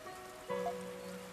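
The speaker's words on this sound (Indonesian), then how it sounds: "Kenapa harus hujan gitu?" Rainfall in a video game: a soft, steady hiss of rain running continuously at low volume beneath sustained droning background music tones, with no voices.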